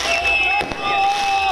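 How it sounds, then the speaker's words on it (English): Fireworks set off overnight in Gaza during ceasefire celebrations, heard as a dense wash of crackling and whistling bursts with a faint crowd murmur behind, loud and continuous. "Overnight, Palestinian families in Gaza seen celebrating, igniting fireworks over the ceasefire between Israel and Hamas."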